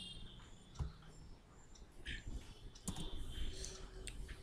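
Computer keyboard typed on at a desk while entering ABAP code, scattered soft key clicks in uneven bursts, faint and close, with a quiet steady background hiss.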